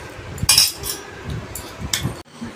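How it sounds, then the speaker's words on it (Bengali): Cutlery clinking against a plate as someone eats pasta: a few short metallic chinks and scrapes at close range, separated by quiet gaps. "বসে বসে পাস্তা খাচ্ছে।"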